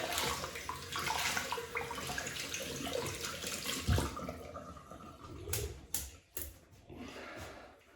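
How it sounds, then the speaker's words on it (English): Running water splashes and trickles steadily, like a tap filling a basin, as a shaving brush is wetted in clean hot water, with a few sharp clicks and knocks near the end. "I'll wet the brush in some clean hot water."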